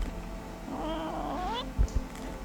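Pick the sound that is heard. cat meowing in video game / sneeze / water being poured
cat meowing in video game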